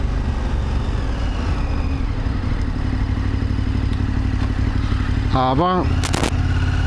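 A 160 hp XR motorcycle engine runs with a steady, loud, close rumble throughout, broken near the end by a brief rising rev and a couple of sharp clattering bangs; a short spoken word sits over it.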